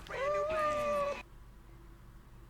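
In a scene from the film Christmas with the Kranks, a cat gives one drawn-out, wavering meow, close and clear, before the sound drops to near quiet and a brief new noise starts at the end.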